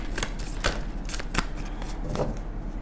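Tarot cards being shuffled and drawn, several quick papery snaps and flicks over a steady low background hum, close by with no voices.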